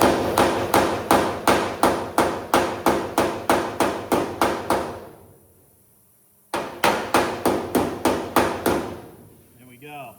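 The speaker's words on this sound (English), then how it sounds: "I can work the rest of that with a body hammer easily" A body hammer strikes the steel hood panel of a 1957 Chevy truck in rapid, evenly spaced metallic blows, two bursts of about a dozen hits each separated by a short pause, loud and close.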